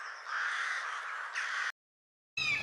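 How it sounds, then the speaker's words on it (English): A raven croaks once in a harsh, raspy, sustained call heard close and loud, followed by silence and a short burst of another sound. "Raven."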